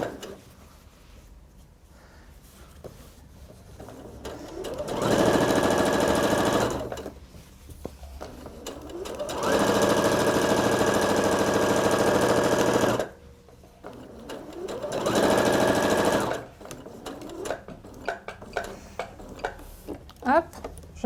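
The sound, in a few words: sewing machine stitching fabric to make gathers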